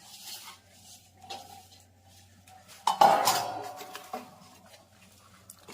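Almonds and coconut for gundar pak are stirred in a metal dish, producing scattered scraping and clinking of utensil against pot, with one louder clattering burst midway; otherwise fairly quiet and free of speech.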